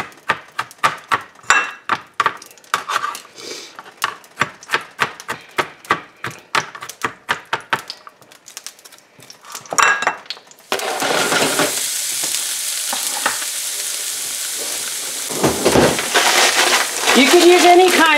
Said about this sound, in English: We hear our frying pan starting.